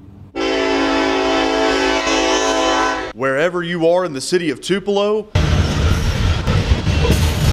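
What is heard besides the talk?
train passing through downtown Tupelo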